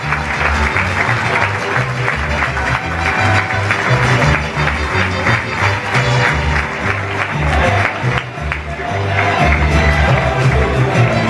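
Crowd applause and cheering fill the stands at a charreada escaramuza show in Tecomán, Colima, a steady broad wash of clapping that continues throughout with no break.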